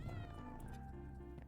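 A cat meows in a drawn-out, wavering call that lasts over a second, fairly faint behind a steady background.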